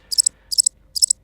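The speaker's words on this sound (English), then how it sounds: "crickets" Crickets chirp in three quick, evenly spaced bursts, each a tight trill of high, bright pulses set against near silence.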